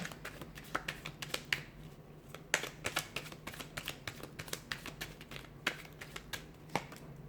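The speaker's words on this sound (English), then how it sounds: "Let's give the cards a shuffle and see what they're predicting for you here." Soft, irregular flicks and riffles of tarot cards being shuffled by hand, close and quiet, with a faint steady hum underneath.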